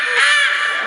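People doing live sound effects imitate jungle bird calls, a single loud, near caw-like vocal cry lasting under a second.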